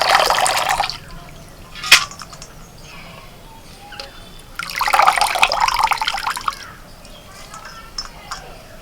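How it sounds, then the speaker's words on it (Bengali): Soaked potato cubes are drained of their water, two bursts of pouring and splashing separated by a quieter stretch with a sharp knock and small drips, close by and without speech. "এবার এটাকে আমি ছেঁকে নেব জল থেকে।"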